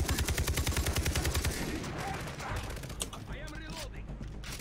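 Rapid machine-gun fire from the video game Far Cry 3 rattles in a fast, even burst, then gives way to scattered shots and mechanical clatter. A voice is heard faintly in the mix.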